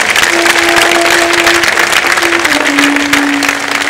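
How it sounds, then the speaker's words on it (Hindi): Applause from a yoga class at a World Yoga Day session in Delhi, dense steady clapping from a group filling the clip at high level, with a faint sustained tone running beneath it. "तालियां पढ़ जाओ अपने लिए।"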